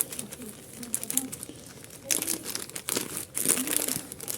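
A crinkly plastic packet of beads rustles and tears in bursts, close up, with a low voice murmuring in the background at times.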